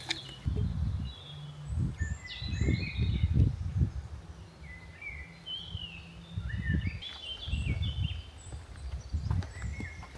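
Birds sing in a hillside forest on a hot day, scattered chirps and short whistled phrases drifting in from a distance, while nearby footsteps crunch and shuffle in uneven bursts.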